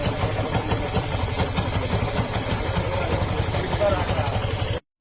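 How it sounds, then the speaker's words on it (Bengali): Yamaha FZS version 3 motorcycle engine running with a bad internal noise, a steady rough mechanical drone with rapid rhythmic knocking throughout, close and loud, cutting off abruptly at the end. "ইঞ্জিনের ভিতরে ব্যাড নয়েজ"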